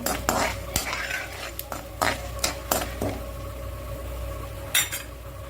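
Cashew nuts sautéed in a pan until golden brown for coconut rice, heard as sharp metal clinks and scrapes of a spoon against the pan over a low steady hum.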